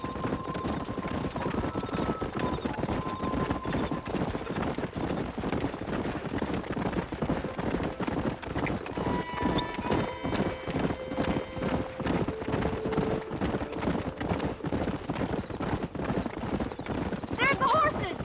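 Horses in the Western video game Red Dead Redemption clip-clop at a steady rhythmic gallop, hooves close and continuous, under a layer of talking voices and faint background music throughout.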